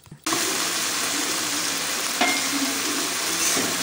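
Food frying at home after a brief quiet start: a sudden broad, steady sizzle with faint clinks, close and continuous, no talking.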